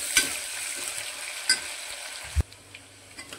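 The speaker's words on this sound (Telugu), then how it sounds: "అదేవిధంగా కట్ చేసుకున్న ఉల్లిపాయలు, 2 పచ్చిమిర్చి అంటే నిలువుగా కట్ చేసుకున్నవి కూడా వేస్తున్నాను ఇందులోకి. ఇది కాస్త ఫ్రై అయ్యేదాకా" Onions and slit green chilies fry in a pressure cooker pan for egg biryani, giving a steady soft sizzle with a few sharp stir clinks and scrapes.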